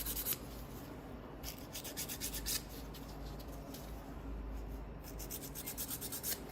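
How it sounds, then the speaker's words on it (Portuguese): Fine sandpaper worked by hand along the underside and sides of a piece: soft, close, rhythmic scratchy rubbing strokes, continuous and quiet, with no speech. "Pega a lixa fininha, lixa por baixo, nas laterais."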